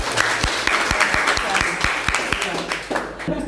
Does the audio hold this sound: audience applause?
yes